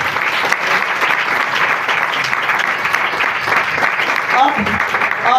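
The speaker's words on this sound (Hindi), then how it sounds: "जोरदार तालियां बजाएं।" Loud, dense audience applause from a church congregation at a Christian gathering, steady clapping throughout with some voices mixed in near the end.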